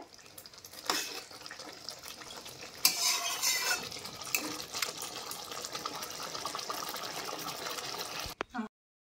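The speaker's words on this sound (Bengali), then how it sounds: "ধনেপাতা গরম মশলা দিয়ে হালকা করে নাড়িয়ে দেব" A spoon stirs tel koi fish curry with coriander and garam masala in a metal pan, scraping and clinking softly and continuously, ending with a couple of louder knocks.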